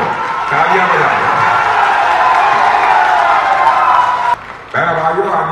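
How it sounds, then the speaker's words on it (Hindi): Crowd at an outdoor political rally in Odisha claps and cheers loudly, a sustained roar of applause and shouting with a brief dip near the end before the noise resumes. "तो तालियां बजा दो, तालियां बजा दो"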